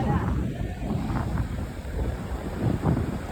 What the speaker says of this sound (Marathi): नागाव बीच हे बघा बोट राईड